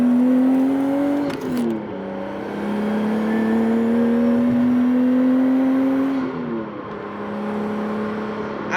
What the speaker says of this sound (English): the turbo noises are so good on this thing